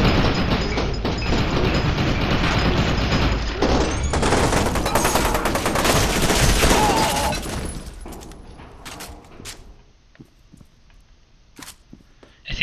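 Dense gunfire in the F.E.A.R. 2 video game, a loud sustained burst of rapid shots that thins out into scattered distant pops, with a few sharp hits at the end.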